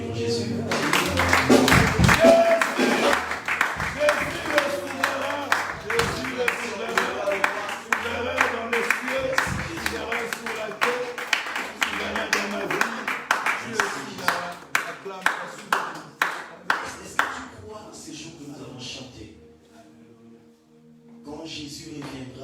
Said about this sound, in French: On va acclamer pour Jésus.